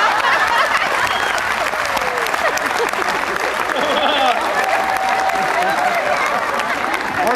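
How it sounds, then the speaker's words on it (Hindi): Audience applause fills a stand-up comedy show, a dense, steady clatter of many hands clapping for several seconds, with scattered voices and a little laughter mixed in. "जो लोग ताली बजा रहे हैं"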